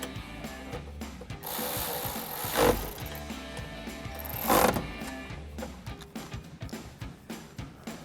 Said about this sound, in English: We're gonna tighten it down with our 13mm socket and wrench.